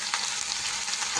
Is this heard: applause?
no